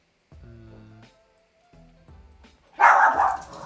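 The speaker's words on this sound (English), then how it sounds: "Dogs!" Dogs bark several times nearby, a few sharp barks, a pause, then another burst ending in a louder, harsher bark.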